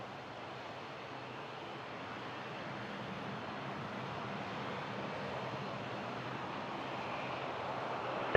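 A Jazz Dash 8 airliner takes off from runway 23 at Toronto Pearson, its engine roar distant and steady at first, then slowly swelling louder across the whole stretch with a faint windy hiss.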